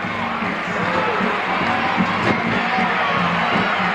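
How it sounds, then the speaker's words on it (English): A wrestling arena crowd in Houston roars and cheers continuously, a dense, loud wash of voices that swells slightly as a wrestler makes his entrance. "And listen to that crowd come alive."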